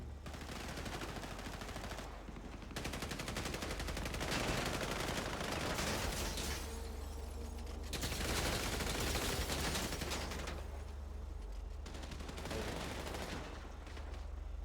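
Gunfire rattles in Grand Theft Auto V, with long sustained bursts of rapid automatic shots broken by brief pauses, loud and dense throughout.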